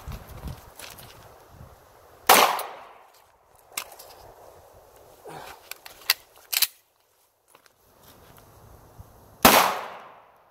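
Handgun shots ring out outdoors during a cold-weather concealed-carry drill: several sharp, loud reports fire at irregular intervals, with fainter clicks and handling noises between them.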